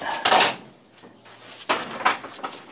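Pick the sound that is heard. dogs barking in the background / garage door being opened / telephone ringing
garage door being opened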